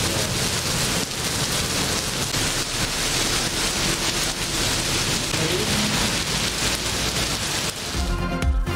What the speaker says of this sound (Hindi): पंजाब, खैबर पख्तूनख्वा, बलोचिस्तान में बारिश और बर्फबारी।